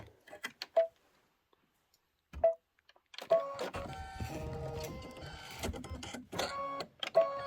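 Embroidery machine stitching out a design, with sparse clicks and ticks at first, then a busy whirring, rattling run of stitching at low level, close by.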